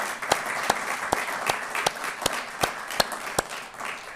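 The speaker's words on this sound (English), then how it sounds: "you all deserve a big round of applause for that." An audience applauds at a corporate skills event, with steady dense clapping and a few sharp louder claps standing out at a regular pace, sustained throughout with no voices.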